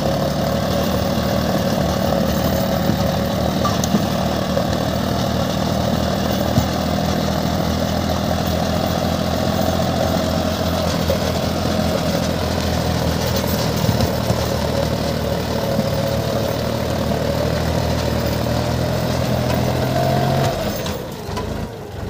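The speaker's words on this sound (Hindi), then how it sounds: "आरपीएम ड्रॉप हो रही है भाई ट्रैक्टर की" A John Deere 5050 D tractor engine works a green rotavator, a loud, steady, droning run whose pitch sags as the rpm drops under load and fades near the end.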